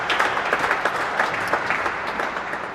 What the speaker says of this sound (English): Again applauded by Rob Fahey